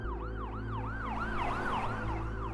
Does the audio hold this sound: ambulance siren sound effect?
yes